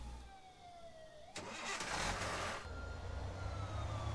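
A car engine starts in Thief Simulator on Switch: a brief cranking burst gives way to a steady, rumbling idle that stays loud and continuous.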